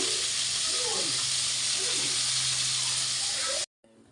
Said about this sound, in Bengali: আগে চিকেন আমি সুন্দর করে ফ্রাই করে নেব